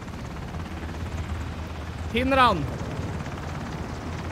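A helicopter in the video game Ring of Elysium passes by, a brief rising and falling rotor whine that swells around the midpoint, close and fairly loud over game ambience, with a voice speaking.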